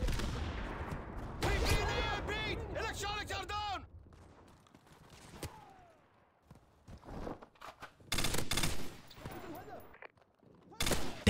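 Gunfire and grenade explosions in the video game Modern Warfare 2 Remastered: loud bursts of automatic fire and heavy blasts come in clusters, separated by quieter stretches with footsteps and short impacts.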